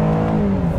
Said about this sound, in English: And that V6 just loves to roar.